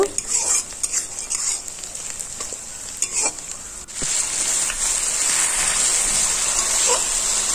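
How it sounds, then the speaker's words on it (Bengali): Meat being fried and stirred in a pan with ground spice paste, a busy sizzle under repeated scraping and clinking of a spoon against the metal, close and fairly loud throughout. "এবার মাংসটা রান্না করব।"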